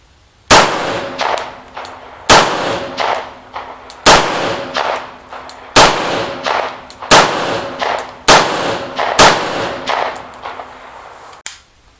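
A Star Model Super B 9mm 1911-pattern pistol fires a long string of sharp shots at a steady, unhurried pace, each loud crack followed by a short metallic ring, with no talking.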